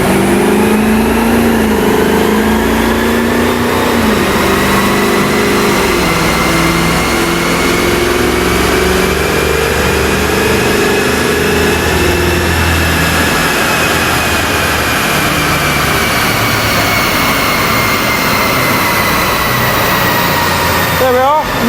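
A Jaguar XFR-S revving hard in a workshop noise test, a loud, continuous roar with a whining edge that swells and holds for the whole stretch.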